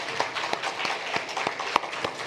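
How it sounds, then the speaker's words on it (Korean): Congregation applause during a church worship service, with several distinct rhythmic claps in steady succession over a soft background of scattered hands, moderately faint and without talk. "하나님께 영광의 박수를 올리겠습니다"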